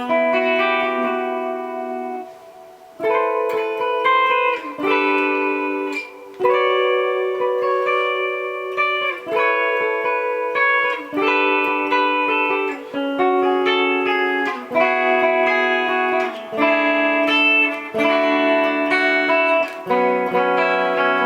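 Electric guitar plays a chord sequence, a long run of sustained, effect-laden chords changing every second or so with short gaps between some, clear and up close with no talk.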